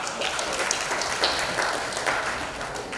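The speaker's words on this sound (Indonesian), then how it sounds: "Mohon tepuk tangan bersama." Delegates at a city council plenary session in Malang clap together in a hall, a moderate, steady wash of applause with scattered sharper claps throughout.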